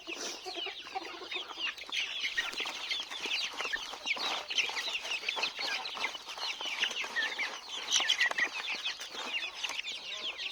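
Free-range country chickens on a poultry farm cluck and peck steadily at mixed feed, a dense, busy chatter of many birds close by with no voices.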